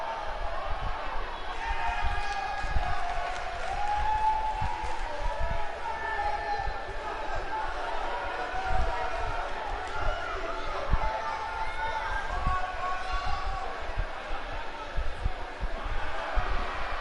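A sold-out WWE wrestling arena crowd roars and murmurs steadily throughout, a dense far-off wash of cheering with thumps from the ring, while a commentator talks over it.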